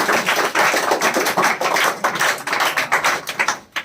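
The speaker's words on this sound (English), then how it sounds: "Okay, go to seat, clap for him." A classroom of students applauds a classmate, giving steady, dense, loud clapping that continues for several seconds with many overlapping hands.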